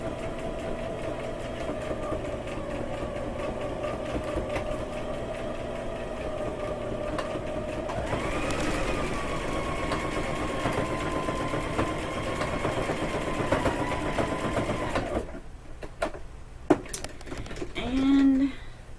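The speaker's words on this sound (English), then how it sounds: "I'm going to back stitch" A sewing machine back stitches fabric while making a quillow, a continuous close mechanical hum that shifts pitch midway, then stops before a brief whir at the end.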